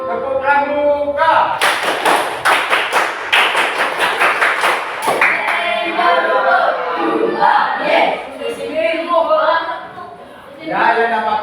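A scout group performs the tepuk pramuka, a Pramuka clap chant. Sharp, rhythmic unison claps in a quick patterned sequence come first, then the group shouts together and voices keep talking.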